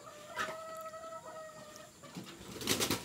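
A chicken clucks and calls in short bursts with a faint squawk near the end, over quiet outdoor background noise and no talking.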